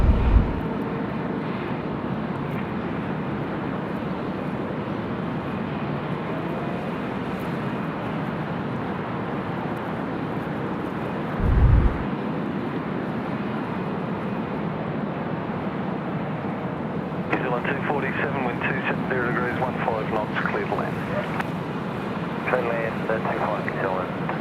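A jet airliner departs runway 25 at Sydney Airport on a windy day, a broad, steady engine roar held at a distance, with gusty wind rumble and a brighter tonal whine rising near the end.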